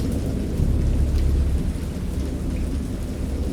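Rain pours steadily in a thunderstorm in the horror game Dagon, with deep thunder rumbling loudly through the first half and easing into a lower, continuous roll beneath the downpour.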